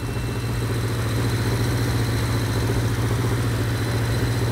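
Vintage Honda CB350F four-cylinder motorcycle idling during carburetor vacuum synchronization, a steady loud low rumble with an even, unbroken drone throughout.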